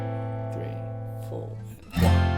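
A guitar strums a single chord and lets it ring out through the verse of a song, the sustained tone fading before the next strum lands near the end, close and steady.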